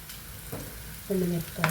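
Dried red chillies hitting hot oil for a tempering in a home kitchen, crackling in two short bursts, the louder one arriving near the end, with a soft background hiss between them.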